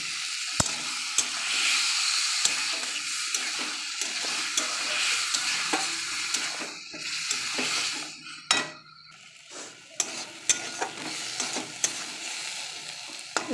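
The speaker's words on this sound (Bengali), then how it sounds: "পোস্ত বাটাটা ঢেলে দেবো।" Poppy seed paste being stirred into fried bottle gourd in a pan, with a soft continuous sizzle of frying under repeated scraping strokes of a spoon against the pot, close and moderately quiet, with no talking.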